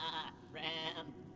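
Sheep bleating in the video game Warcraft 3: Reforged, two drawn-out nasal bleats in quick succession over a steady game background, fairly soft.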